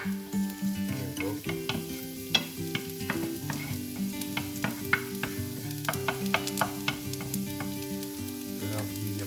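Oil sizzles steadily in a pan for a Vietnamese bitter melon and egg stir fry, with close stirring clatter and scrapes throughout and no talking.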